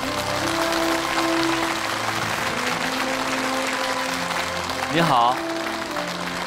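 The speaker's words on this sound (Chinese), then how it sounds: "接下来我们掌声有请" A television studio audience claps steadily to welcome a guest onto the set, with background music and a voice speaking briefly over the applause near the end.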